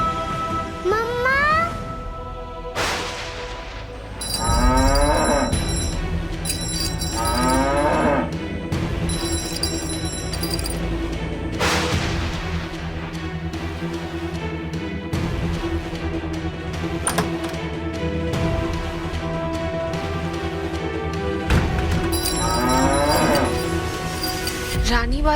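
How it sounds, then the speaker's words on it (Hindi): A cow moos over and over in long, drawn-out calls, loud and close, with several separate bellows spread through a dramatic scene and occasional voices and background music mixed in. "रानी बार बार रंभा क्यों रही है?"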